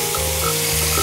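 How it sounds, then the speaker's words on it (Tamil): Shallots, garlic and curry leaves frying in a hot pan, giving a steady loud sizzle throughout with faint stirring underneath and no voices. "நம்ம நறுக்கி வச்சுருக்க சின்ன வெங்காயம், பூண்டு, கருவேப்பிலை எல்லாத்தையும் போட்டுடலாம்."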